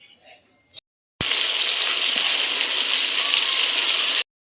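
Fish frying in a pan, a loud continuous hiss of hot oil held steady for about three seconds, preceded by quieter kitchen sounds and ending abruptly.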